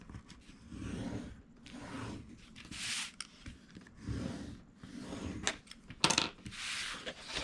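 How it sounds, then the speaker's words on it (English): A stylus scores around the edges of chipboard taken from a 3-ring notebook, giving soft repeated scraping strokes of varied length with a sharper click or tap near the end, close and fairly quiet. "I'm going to take my stylus and just go around the edges of the chipboard to create a score."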